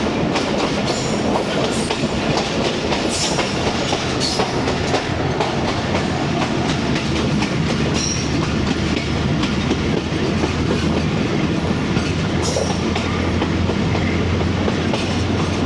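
Rumble and rhythmic clickety-clack of the 38DN Fareed Express passenger train running on rails through rural Punjab between Kasur and Bahawalpur, loud and continuous from on board, with faint squeals at times.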